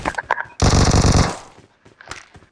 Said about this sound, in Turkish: Üstten Adam pompalı sıkıyor burada.